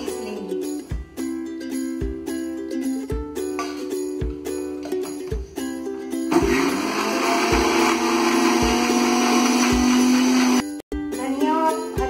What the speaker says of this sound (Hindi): उसके बाद धनिया, हरी मिर्च और अदरक को डाल के पीस लेंगे।